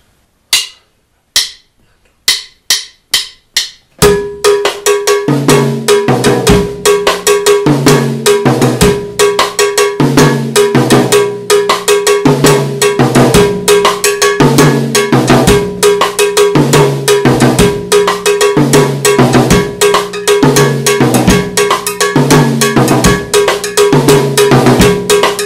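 Afro-Cuban Bembe groove on drum kit with a bell on top and the bass drum dropped on beat one; a few isolated bell strikes open it before a steady, loud, dense groove settles in, with no talking.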